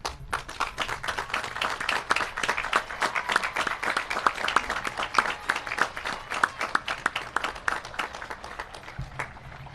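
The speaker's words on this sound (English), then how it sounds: "turn to the crowd, and acknowledge your family, friends, and loved ones through a nice round of applause" A graduation audience claps in a sustained round of applause, with dense, continuous hand claps swelling and holding steady before trailing off near the end.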